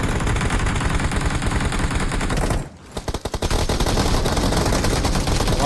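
Dense, loud automatic gunfire from the battle royale video game PUBG, sustained bursts with a brief pause midway before the rapid shooting resumes.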